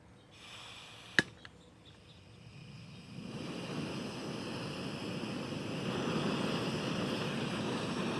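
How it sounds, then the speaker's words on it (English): A Snow Peak Flat Burner butane camp stove gives a sharp ignition click, then a steady broadband jet-like roar that builds over a few seconds and holds, close and unaccompanied by talk. "It does have a little bit of the jet engine noise that comes with a butane burner"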